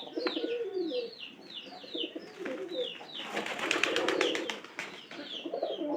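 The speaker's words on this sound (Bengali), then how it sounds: "এটা মনে করেন যে কবুতর দেখলেই মাত্র ডাকাটাই শুরু হয়ে যায়" Domestic pigeons coo in repeated soft, throaty rolling calls, close by and layered, with several birds overlapping and a brief flurry of fluttering wingbeats midway.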